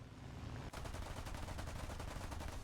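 Bristol Beaufighter Mk 21 cannons and machine guns firing in a flight combat video game, a sudden onset followed by a continuous rapid stream of loud, close gunfire bursts with no talk.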